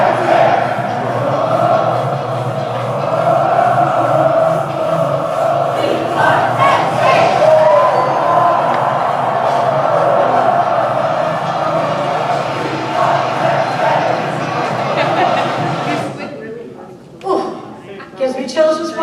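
Stadium crowd at a Penn State whiteout football game, a huge sustained roar of cheering and chanting with music underneath, loud and enveloping, fading abruptly near the end.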